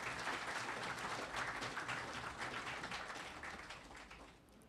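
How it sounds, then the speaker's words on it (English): Audience at a public event breaks into sustained applause, dense and even clapping from a crowd that holds steady, then gradually thins and fades toward the end. "So I want a big round of applause for Ms."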